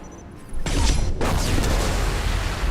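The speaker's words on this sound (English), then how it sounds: "a bigger explosion than I was expecting." An in-game explosion in Mass Effect 2 bursts in with a loud, broad boom about half a second in, then a dense roar and rumbling debris that hold steady to the end, without speech.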